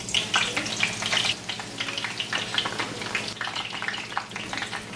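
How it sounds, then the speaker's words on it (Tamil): Salted eggplant slices deep frying in hot oil, a steady crackling sizzle with dense bubbling pops running continuously, close and fairly loud, with no voices. "நல்லா கோல்டன் ப்ரௌனாக வர வரையும் இதை பொரிச்செடுப்போம்."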